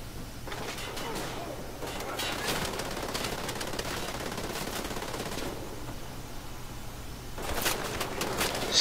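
A minigun in Wolfenstein The New Order fires in long rapid streams, a loud rattling burst that keeps going through most of the stretch, with one more burst near the end.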